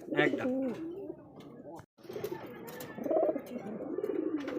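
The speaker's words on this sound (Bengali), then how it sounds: "আরও একজোড়া কিন্তু জিরাগলা হাইফ্লার একজোড়া গিরিবাস দেখতে পাচ্ছি" A pair of Jiragola highflyer Giribaz pigeons coo close by, soft rolling coos that open strongly and recur, with a voice talking over them and a brief silent gap midway.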